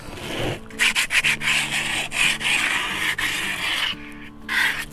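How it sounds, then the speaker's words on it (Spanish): A cement flower pot is sanded by hand, giving a steady, close scraping rub in repeated strokes with brief pauses and no talk. "La maceta ya está lijada"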